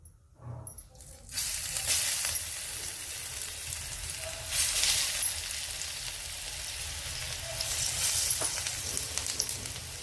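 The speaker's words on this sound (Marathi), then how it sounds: "तेल गरम झालेलं आहे। तर आता आपण एक एक करून वडी ठेवू।" Bottle gourd vadi pieces go one by one into hot oil in a pan: quiet at first, then a sudden loud sizzle that keeps crackling with small swells and scrapes.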